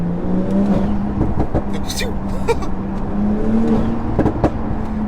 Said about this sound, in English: even driving it slow, just hearing the wastegates.